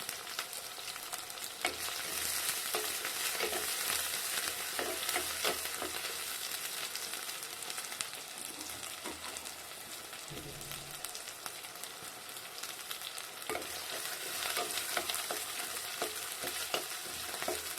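Chopped onions and crushed spices fry in a clay pot, a steady close sizzle with scraping stir strokes throughout, briefly easing before the crackle rises again; no one talks.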